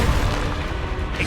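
A Confringo blasting spell goes off in a video game: a dense, rumbling boom that holds steady for about a second with no voices over it.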